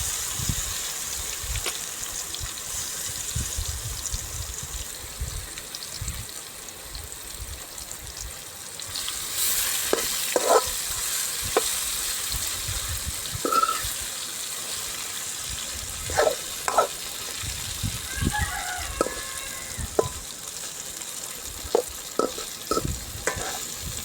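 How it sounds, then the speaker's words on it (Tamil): Masala-coated raw plantain slices fry in a pan of hot oil with fennel and curry leaves, giving a steady sizzle broken by repeated scraping, clattering stirs that grow busier and louder toward the end. "மசாலா பிணைஞ்சு வச்ச வாழைக்காயை அதில் சேர்த்துக்குருவோம்"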